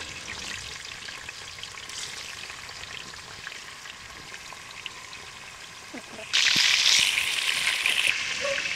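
Potatoes and meat fry lightly in hot oil for chicken biryani, a steady close sizzle that jumps much louder and brighter for the last few seconds, with faint clinks underneath.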